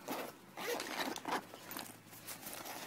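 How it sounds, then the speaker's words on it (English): Zipper being drawn open along the fabric pad cover of a portable booster seat, a close, continuous rasping pull lasting a few seconds with slight variations in speed. "See here, you can unzip"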